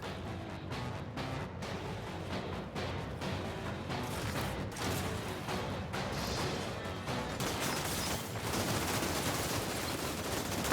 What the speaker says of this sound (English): Oh yeah, I forgot I had a sniper rifle.